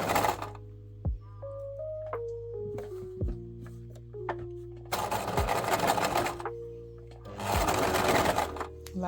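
Close sewing machine stitching scrunchie fabric with a double stitch, starting with slow rising mechanical whirs and clicks and building to two loud, fast continuous runs, a steady low hum beneath throughout.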